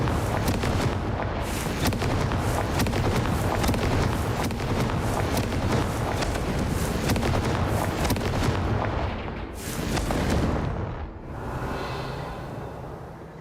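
Repeated Confringo fire spell blasts in the game Hogwarts Legacy, a rapid series of loud booming explosions one after another, close and dense, with a short lull near the end before a final burst.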